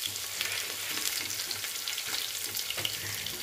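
Ginger garlic paste and chopped chillies fry in a pan with a steady, close sizzle and crackle, broken by occasional stirring scrapes.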